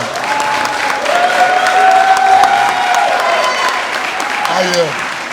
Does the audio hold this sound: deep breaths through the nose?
no